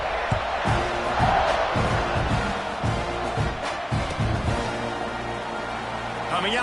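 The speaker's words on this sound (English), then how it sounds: "this crowd is buzzing after that last score" Football stadium crowd buzzing after a score during a Texas A&M versus LSU college game, a dense, loud roar of cheering and whoops with thumps, under a commentator's talk.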